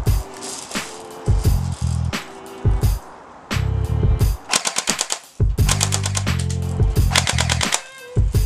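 D90H R9 airsoft BB gun firing in rapid bursts of sharp, close snapping shots, several rattling volleys separated by brief pauses, loud and dry with no voices.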